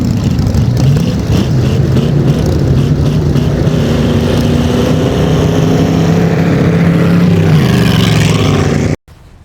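Vintage hot rods run side by side down a dirt drag strip at the Hot Iron Dust-Up, engines roaring loud and steady, pitch climbing and shifting as the pair pulls away, then cutting off abruptly.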